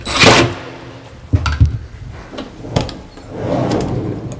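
A kitchen cabinet base pullout on freshly adjusted slides glides back into its cabinet with a wooden rolling rumble, a few knocks and a soft thud as it closes, followed by a longer sliding sweep, all close and without talk.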